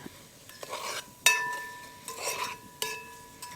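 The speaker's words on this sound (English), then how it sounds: "so we just give that a stir up" Food stirred in a pot over a campfire, a few scraping strokes with metallic clinks and ringing tones, fairly quiet and close, with no talking.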